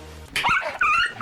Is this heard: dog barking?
yes